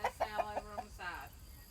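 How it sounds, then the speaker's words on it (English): Chickens in a chicken run on a homestead cluck in a quick series of five short notes, followed by a longer drawn-out call, fairly close and moderately loud. "they had this nice little chicken run here next to their main chicken run"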